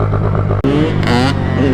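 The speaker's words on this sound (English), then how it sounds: "That KTM. Oh, both the two-strokes." A KTM two-stroke dirt bike revs loudly nearby, a buzzy engine note that cuts out sharply for an instant and then snaps back up into a rising, crackling rev.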